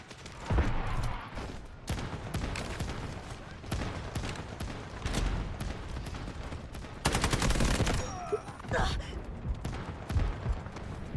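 Dense, loud gunfire and fusillades from a free first-person shooter video game, with rapid bursts and single shots continuing throughout amid battle noise, artillery, and brief game voice announcements.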